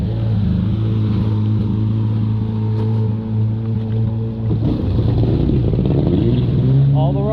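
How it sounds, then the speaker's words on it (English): Riders' vehicles run their engines in a loud, steady, close droning roar, with the pitch climbing briefly near the end as one revs up. "All the riders are preparing their vehicles."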